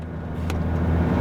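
A Bugatti Veyron tuned to 1,001 horsepower starts from its push button, a close, steady engine rumble building slightly in loudness over about a second.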